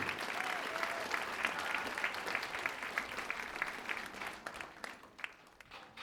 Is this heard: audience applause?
yes